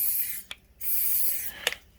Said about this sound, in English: That silicon spray.